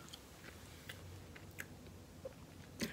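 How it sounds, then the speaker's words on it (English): Someone chewing a mouthful of tough, dense food during an eating challenge, with soft, continuous, close-up wet chewing and occasional crunchy bites, fairly quiet and with no talk. "This one's a little harder to chew."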